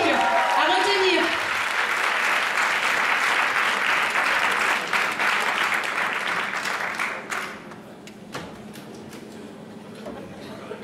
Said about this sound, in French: On les applaudit très fort